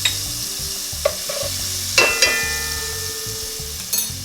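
Three cloves of garlic fry and sizzle steadily in a pan while being stirred, with several sharper scraping knocks of the utensil against the pan, close and fairly loud, with no talk.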